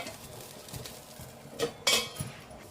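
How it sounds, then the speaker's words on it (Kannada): A metal plate is set over an egg paddu pan to cover it, giving a couple of short clinks and clatters over a quiet kitchen background. "ಈಗ ಕ್ಲೋಸ್ ಮಾಡಿಬಿಡೋಣ ಪ್ಲೇಟ್"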